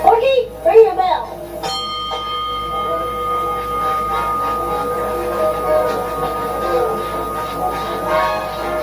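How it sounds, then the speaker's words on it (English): A bell rings sharply once near the start, bright and close, and its tone fades over the next few seconds. Voices and background commotion from a group continue around it. "Porky, ring the bell."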